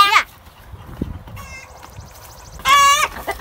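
Backyard chickens cluck in short bursts while being offered earthworms and nightcrawlers on the ground, with quiet pauses between the calls and a louder run of clucks near the end.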